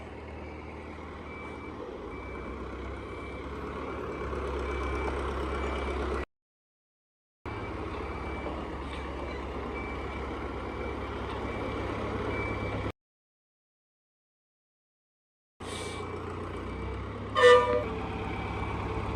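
A truck backs up while loading a shipping container, its reversing beeper sounding steadily over a low engine rumble, broken by two silent gaps and ending with a brief sharper tone.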